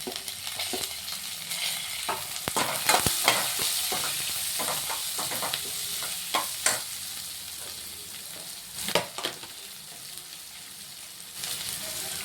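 Onion and green chillies fry in a pan with fried urad dal, a soft continuous sizzle broken by sharp stirring clacks and scrapes of a spatula, no voices.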